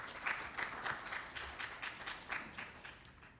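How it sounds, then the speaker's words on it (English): Conference hall audience gives a round of applause for panelists and dignitaries, a soft, even patter of many hands heard from a distance. "I request you to give a big round of applause for all the panelists and dignitaries."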